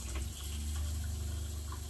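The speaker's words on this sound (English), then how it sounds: "Now we're going to turn the pump on." A travel trailer's water pump hums low and steady while water flows into the kitchen sink, a faint continuous rush with no voices.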